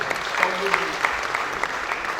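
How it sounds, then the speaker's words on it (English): Applause from the audience at a village meeting, a steady crowd patter with a few louder claps standing out, while a voice briefly speaks over it near the start. "Please a round of applause for her."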